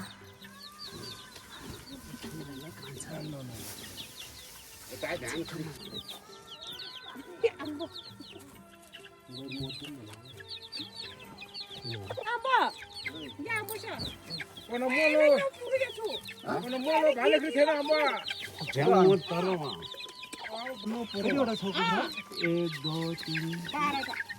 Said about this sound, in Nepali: यो त जंगलमा जुवा खाने कुखुरा पनि